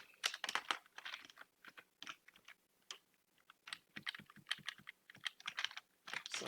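Fingers type on a computer keyboard, close and quiet, with rapid irregular bursts of keystroke clicks and short pauses between them.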